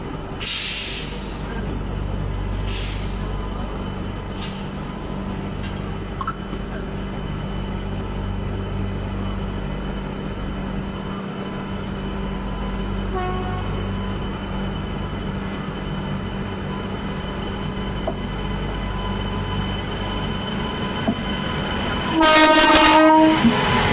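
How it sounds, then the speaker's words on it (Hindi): A train from Bilaspur passes on a crossing with a long, steady rolling rumble and hiss, ending in a loud horn blast near the close. "बिलासपुर से एक ट्रेन निकली है, अभी जस्ट क्रॉसिंग होगी"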